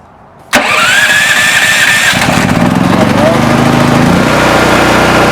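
A portable generator engine cranks on choke and catches almost at once, then runs loud and steady with a shifting mechanical drone and no talk over it.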